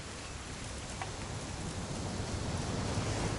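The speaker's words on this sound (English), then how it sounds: "It's gonna rain the whole weekend, isn't it?" Steady rain hisses evenly in a video game scene from What Remains of Edith Finch, a soft, constant wash of falling drops with no voices.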